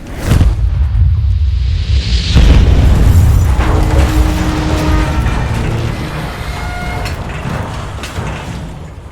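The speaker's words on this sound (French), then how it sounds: "En sortit alors une gigantesque boule de feu de la taille d'un homme qui traversa le bois pour aller se fracasser contre sa cible." A giant magic fireball slams into its target with a loud booming explosion, opening with a rushing whoosh and a heavy blast that rolls on and slowly fades over several seconds.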